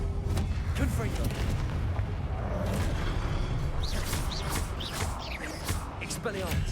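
Confringo fire spell in Hogwarts Legacy, blasting amid a game battle: rumbling booms and whooshing bursts over a dense, noisy mix, with a voice talking throughout.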